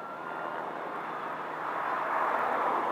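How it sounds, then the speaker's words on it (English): A low-flying helicopter passes overhead, a steady broad rotor and engine roar that swells slightly louder toward the end, with no talking. "See that helicopter?"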